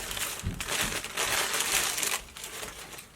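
Packing paper crinkles and crushes as it is pulled out of a Dr. Martens boot box, a continuous close, loud rustle with louder bursts, easing slightly near the end.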